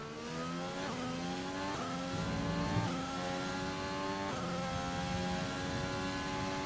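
An F1 car engine in the racing game F1 2020 at Bahrain screams steadily at high revs, its pitch stepping up through repeated gear changes, loud and continuous with no talk.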